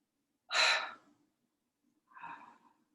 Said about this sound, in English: So breathe in through the mouth.